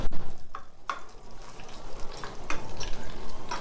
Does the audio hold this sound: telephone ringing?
no